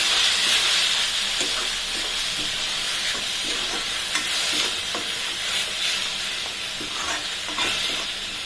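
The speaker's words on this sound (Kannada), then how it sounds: "ಅದರಲ್ಲಿ ಸ್ವಲ್ಪ ಫ್ರೈ ಆಗಲಿ" Onion and masala paste frying in a pan for a potato gravy, a steady close sizzle with scraping stirs throughout, no voices.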